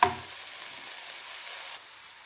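Pork tenderloin fries in a hot pan, giving a steady, close sizzling hiss that briefly swells and then drops to a quieter, level crackle, with no talking.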